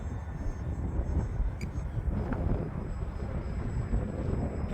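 Freewing MiG-15 64mm EDF radio-controlled jet flying in strong wind. A faint, distant whine comes and goes under steady, heavy wind rumble.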